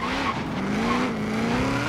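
A Nissan 240SX drifts in the racing game Forza Horizon 3, its tires squealing in long wavering tones over a steady engine drone throughout.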